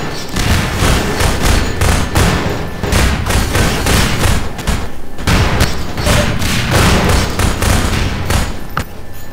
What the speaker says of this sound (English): Did the explosions hit any of them?